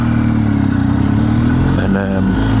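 A motorcycle engine hums steadily while riding along on a Saturday morning ride, a low droning tone with a slight pitch shift near the end.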